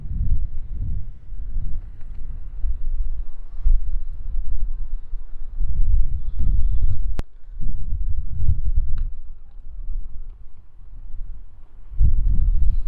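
Wind at the moat of Hastings Castle buffets the microphone in heavy, low, rumbling gusts that rise and drop, loud and close, with brief lulls between them.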